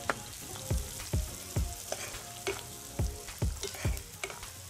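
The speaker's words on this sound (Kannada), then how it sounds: "ಇದೆಲ್ಲ ಉಳ್ಳಾಗಡ್ಡಿ ಸೊಪ್ಪ ಚಂದಂಗೆ ಫ್ರೈ ಆಗಲಿ" Chopped onions and spring onion frying in a pan for Uttar Karnataka jhunka, a soft sizzle punctuated by a run of repeated spatula scrapes and knocks against the pan.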